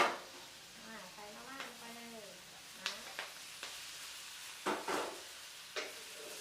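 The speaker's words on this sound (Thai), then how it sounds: "เราก็จะผัดให้เข้าเข้ากันแบบนี้นะ" Instant noodles and pork belly are stir-fried in a pan, giving a faint sizzle under scattered scraping and tossing knocks from the utensil, while a voice speaks briefly early on.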